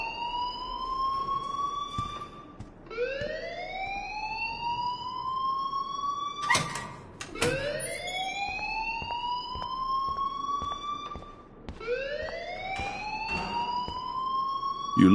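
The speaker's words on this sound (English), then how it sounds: "please turn off that alarm since that's your job" A siren-like alarm wails in the video game Life is Strange, repeating rising sweeps about every two and a half seconds, loud and steady, broken by brief clattering bursts near the middle.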